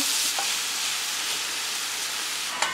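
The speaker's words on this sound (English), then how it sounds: "So I'm adding the ginger and garlic that we grated earlier." Grated ginger and garlic fry in a pan with onions for baigan bharta, giving a steady, close sizzle with a few soft stirring scrapes and no talking.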